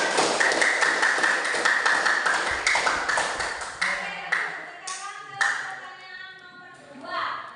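A sociology class claps hands together in a rhythmic burst that loosens and thins out into a few scattered claps, with children's voices and chatter rising as the clapping fades.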